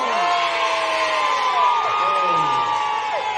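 Excited fans at an award event cheer together, producing a sustained, dense wall of screams and whooping voices with swooping pitch that holds steady and loud throughout.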